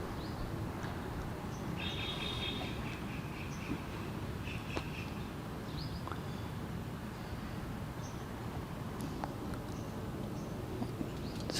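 Small birds at a feeder on resort grounds give a few brief high chirps and a short twittering burst early on, fairly faint against a steady outdoor background hiss, with scattered isolated calls later.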